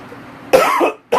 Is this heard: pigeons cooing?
no